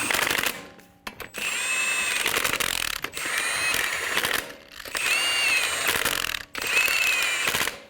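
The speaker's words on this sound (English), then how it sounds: "Snug down the lug nuts." A ratchet snugs down wheel lug nuts on a 2007-2011 Toyota Camry in several loud, close bursts of rapid clicking, separated by brief pauses.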